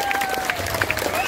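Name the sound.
audience applause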